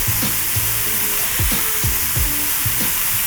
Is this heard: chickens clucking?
no